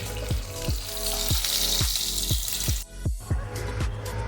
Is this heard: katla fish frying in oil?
yes